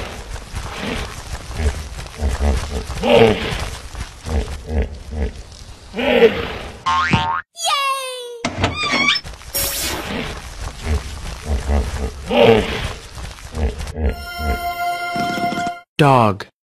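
Low grunting, pig-like animal calls meant as a hippopotamus, mixed with cartoonish boing and whinny effects, heard loud and close in a busy, layered sequence.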